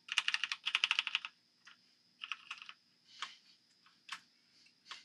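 Keys clack on a Doomhammer CHOC96 mechanical keyboard, first in quick rapid bursts of typing, then in scattered single and paired presses, crisp and close in a quiet room with no talk.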